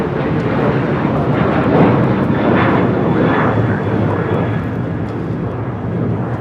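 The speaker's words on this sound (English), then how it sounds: "1430 taking off to Los Cabos on a 737-900ER." An Alaska Airlines Boeing 737-900ER jet takes off, its engines a loud, steady broadband roar that holds throughout with a slight swell midway.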